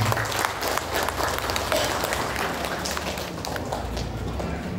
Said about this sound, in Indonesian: Tepuk tangan untuk beliau semua.